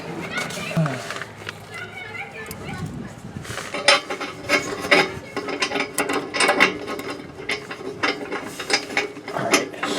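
A ratchet wrench clicks in short, uneven bursts while fitting a nut onto a motorhome's tailpipe hanger, close and fairly loud, with a person speaking quietly over the clicking and light metal clinks.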